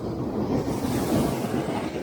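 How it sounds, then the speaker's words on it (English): Big ocean swells crash and surge against rocks at a rock-fishing spot, a loud continuous roar of churning surf mixed with wind buffeting the microphone. "Oh, that's a big wave."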